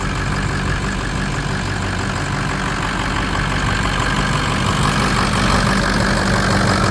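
Ford 6.0 Power Stroke diesel engine idling steadily, a loud, continuous low rumble close by with no variation over the stretch and no voices.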